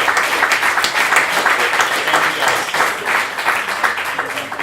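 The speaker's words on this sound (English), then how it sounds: "Can we get another round of applause?" A room full of people applauds loudly and continuously at a talk on supporting teens and families in recovery, with dense, even clapping and a few voices mixed in.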